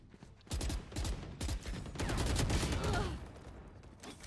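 Rapid bursts of gunfire spraying in a Valorant match, several loud clustered volleys in quick succession with a sustained stretch of dense shooting in the middle.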